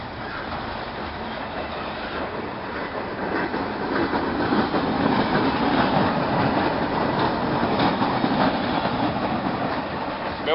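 A mixed freight train rolls past on the rails, a steady, loud rumble with clickety-clack of wheels on track and metallic rattling that builds slightly and holds for the whole stretch, with no one talking.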